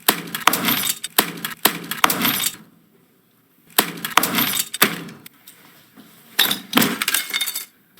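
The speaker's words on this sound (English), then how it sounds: "Georgia smashes his phone" Repeated loud smashing and cracking with glassy clinks, arriving in three violent bursts separated by short pauses.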